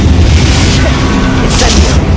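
A Confringo spell explosion from Hogwarts Legacy bursts as a loud, booming blast with a heavy low rumble and hiss that fill the short moment, with no talk over it.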